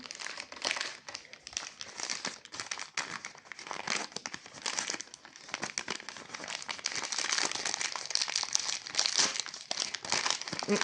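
A plastic toy packet crinkles and crackles continuously at close range as it is opened, with rustling bursts that grow busier toward the end.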